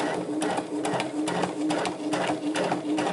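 Sewing machine running a backstitch on fabric for a soup bowl cozy, a close, rapid rhythmic whirring with regular pulses and a few brief pauses.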